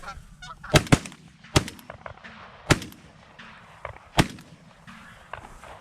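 Geese honk repeatedly during an early-season goose hunt, broken by several loud, sharp shotgun blasts fired close by in quick succession, with the honking calls continuing between shots.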